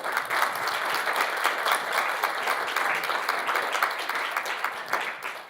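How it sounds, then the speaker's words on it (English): A conference audience at CoinFestUK 2018 breaks into steady, dense applause that fills the room, many hands clapping continuously for several seconds before tapering slightly at the end. "Let's have a quick round of applause for Danny, please."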